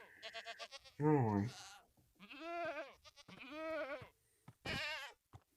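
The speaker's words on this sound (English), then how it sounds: "There's some baby goats." Baby goats in the Minecraft video game bleating in short, wavering cries, several calls spaced apart, with a person briefly talking between them.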